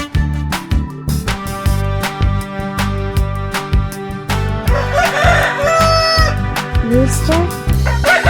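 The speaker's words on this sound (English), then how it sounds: "rooster," A cartoon rooster crows over bouncy background music, its call rising out of the mix partway through, loud and close.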